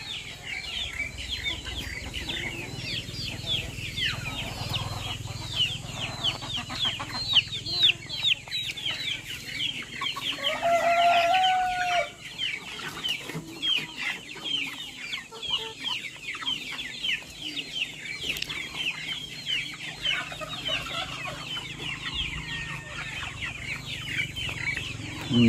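Rhode Island Red chickens cluck in a farm setting, with a busy, continuous chorus of overlapping clucks and chatter from several birds at close to moderate distance.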